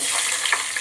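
Chopped onion hitting hot oil in a frying pan with dried red chilli, giving a brief, steady broadband sizzle heard up close with no talking.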